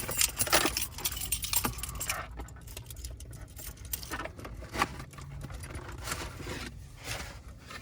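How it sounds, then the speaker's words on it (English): A bunch of many keys jangles and rattles close by in near-continuous bursts, with metallic clinks throughout and a low background rumble. "I've got loads of keys"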